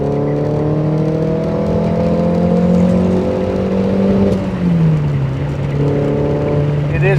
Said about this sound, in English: let's drop it down a little bit to third and get on it